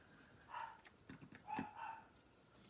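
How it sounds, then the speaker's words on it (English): A dog named Todd barks a few times from another room, muffled and distant, in short yelps against quiet background. "He's in there barking at something."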